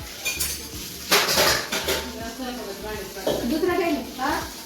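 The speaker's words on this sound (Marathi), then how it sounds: "आता भांडे घालायचे. बघा भांडे किती पडतात." Steel pots, plates and cutlery clatter and clink as they are dropped into a pile for washing in a village home, several sharp metallic hits close by, with someone talking over them.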